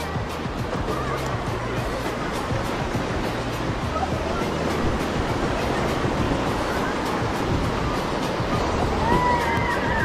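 Waves break and wash steadily on the beach at Ross Island in the Andaman Islands, a constant close surf roar with faint voices mixed in.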